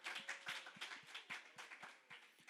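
Congregation at a Saturday church service applauding, faint and distant, a short patter of scattered claps with no voices.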